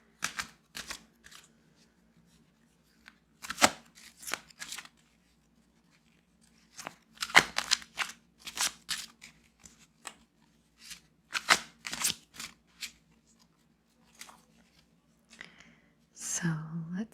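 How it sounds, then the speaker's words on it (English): A tarot deck is shuffled and handled in bursts of crisp card riffles and slides, close and fairly soft, with pauses between and a brief low voice near the end. "let's pull some cards."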